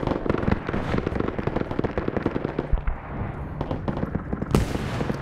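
Repeated grenade and gunfire blasts in the Vietnam War shooter Arma SOG Prairie Fire, during a defense of Khe Sanh, form a dense, loud, continuous barrage of bangs and crackles with a sharp burst near the end.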